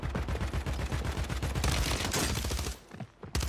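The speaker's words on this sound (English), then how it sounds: "Those kids are shooting down at me." Rapid bursts of enemy gunfire in a multiplayer shooter match, dense repeated shots pouring in close and loud for most of the stretch, then breaking off briefly before a final crack.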